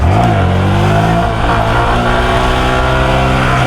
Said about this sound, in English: it should stop revving at some point